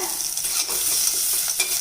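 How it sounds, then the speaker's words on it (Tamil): Steady, close sizzling of tempering spices and chopped green chilies frying in hot oil, a dense crackling hiss with faint stirring scrapes, no voices. "இந்த தாளிப்பு சாமான்கள் எல்லாத்தையும் கருகிடாமல் இந்த மாதிரி வறுத்துக்கோங்க"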